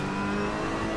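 A Ferrari race car in Assetto Corsa Competizione revs its engine with a steady, loud, buzzing mechanical drone that holds at high pitch throughout, with no one speaking.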